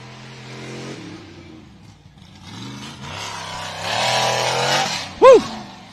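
Off-road race buggy thrown around tight short-course corners, engine note rising and falling through shifting revs, ending in a brief loud whine or squeal.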